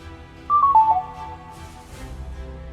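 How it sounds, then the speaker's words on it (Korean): A mobile phone plays a short descending electronic tone sequence, four quick notes stepping down, as it switches off after its power button is held, followed by faint outdoor background noise. "휴대폰을 꺼냈습니다. 그리고 전원 버튼을 길게 눌렀습니다."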